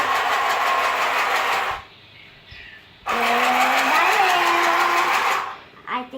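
Sewing machine stitching fabric during a beginner's first practice, running in two long loud whirring bursts separated by a short pause, with a brief start at the end.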